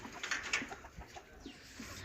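Black Kadaknath chickens clucking softly in short scattered calls, a few birds at moderate distance over a faint background hum.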